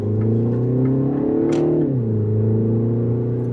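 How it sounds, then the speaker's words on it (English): A 2026 Mini Countryman S SUV in sport mode revs up steadily, its pitch climbing then dropping briefly as it shifts, continuing to pull with a loud, close rumble. "you're already up to speed right there by just accelerating"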